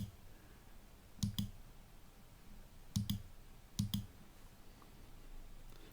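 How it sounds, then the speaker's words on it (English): Computer mouse clicking in a quiet room, three quick double clicks spaced apart, close and crisp over faint background hiss. "To see the next day, simply click on the plus button."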